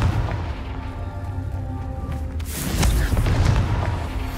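Spell blasts in the Hogwarts Legacy video game, a rumbling low roar that builds into a heavy, booming burst partway through, loud and close with a crackling tail.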